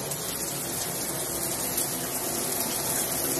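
Water sprays hard and steady from an unlocked shower filter head, a dense, continuous hiss of water close by with no voices.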